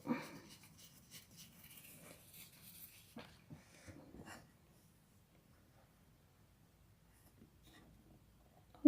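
Material for a handmade box being cut, a few seconds of close, faint scratchy cutting strokes with small taps, then near silence and a sharp knock at the very end.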